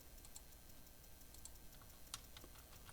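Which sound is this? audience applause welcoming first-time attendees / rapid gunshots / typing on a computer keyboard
typing on a computer keyboard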